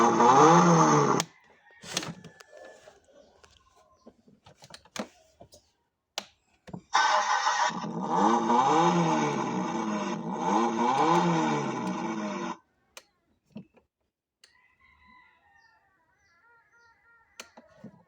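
An old vehicle's engine cranks and catches, then revs hard in two loud bursts separated by a quieter stretch of scattered clunks, and the sound drops away to near silence at the end.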